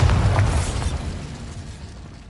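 A single loud Bombarda spell explosion in the video game Hogwarts Legacy, a heavy boom at the start that decays into a rumbling, crackling tail fading over about two seconds.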